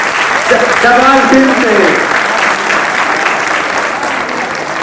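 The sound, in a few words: audience applause welcoming performers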